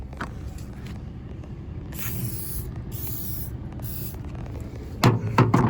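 WD-40 is sprayed from an aerosol can onto a Can-Am Maverick Turbo in three short, close hissing bursts over faint background noise, followed by a rubbing clatter.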